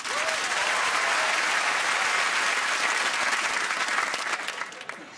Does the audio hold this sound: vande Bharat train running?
no